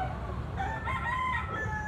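Gamefowl rooster crowing close by, a bright wavering call drawn out over the whole moment, set against steady low background noise with no talk.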